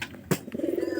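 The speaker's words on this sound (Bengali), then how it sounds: "ওই যে কবুতর বাচ্চা হইতাছে" Pigeons cooing in a loft where a pair is nesting, a low soft coo rising over a brief louder burst, fairly close, with no one talking.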